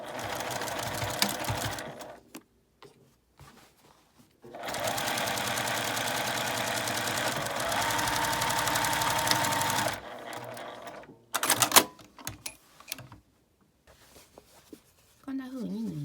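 A sewing machine stitches fabric for a drawstring bag in two long, steady runs of rapid whirring, with handling noises and pauses between them and a voice speaking at times.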